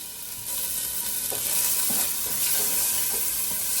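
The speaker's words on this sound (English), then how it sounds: "Ooh, nice sizzle." Jambalaya ingredients sizzle steadily in a frying pan with spices, a broad hiss filling the clip while soft stirring knocks and scrapes come through now and then, close and alone without voices.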